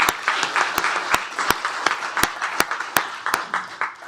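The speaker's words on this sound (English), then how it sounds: "Let's give him a round of applause for 25 years." Applause for an employee's 25 years of service rises at a county commissioners court meeting, as a modest roomful of clapping runs steadily, marked by sharp, regular clicks throughout.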